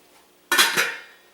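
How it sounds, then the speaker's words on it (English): A metal lid clanks onto a pot in two quick ringing hits, then fades away; nothing else is heard. "So I'm going to throw my lid on"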